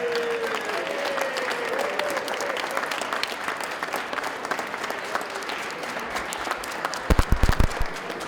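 Sustained applause from an audience at the Connecticut State Capitol honouring visiting students, a dense even wash of clapping in a large hall, with a few louder close claps near the end.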